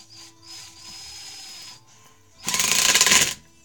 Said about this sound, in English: I'll drive another lag bolt in for you.